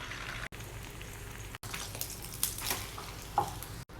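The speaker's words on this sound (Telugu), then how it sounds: "ఫస్ట్ ఎగ్ ఫ్రై చేస్తున్నానండి" An egg frying in a pan for egg fried rice gives a soft, steady sizzle with faint crackles and occasional clinks, quiet and close, with no talking.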